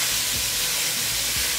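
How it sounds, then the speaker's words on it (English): Beef browns in hot bacon drippings in a pan over medium-high heat, giving a steady, loud, unbroken sizzle and hiss that runs throughout. "We're going to flip our beef so that it can brown on all sides."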